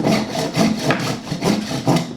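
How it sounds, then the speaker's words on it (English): A hand rasp is pushed back and forth across a wooden 2x4 in steady rhythmic strokes, about five to six coarse, scratchy rasps close up with no voices. "Everyone just gets a 2x4, everyone gets a rasp"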